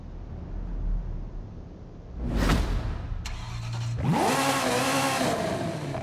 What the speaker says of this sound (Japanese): では、早速エンジンをかけてみたいと思います。